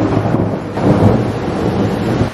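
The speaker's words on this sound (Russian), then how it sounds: "но там настолько сильный дождь, что я ничего не вижу" A heavy thunderstorm rages outdoors, with a loud, continuous roar of downpour and rumbling thunder filling the whole stretch without any voices.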